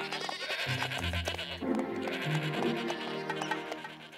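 Several goats bleat together nearby, overlapping wavering cries that carry on continuously with no talking, in a cartoon.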